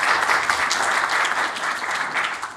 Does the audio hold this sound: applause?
yes